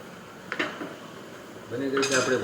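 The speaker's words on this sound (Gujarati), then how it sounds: "કિચનમાં બધું આમથી આમ પડપડ થાય છે, ભલે થતું." Pots and utensils clatter in a home kitchen while bhakri flatbread is being made, with a couple of light metallic knocks followed by a brighter, longer rattle of metal.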